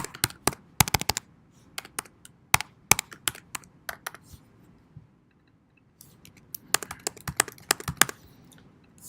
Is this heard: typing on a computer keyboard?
yes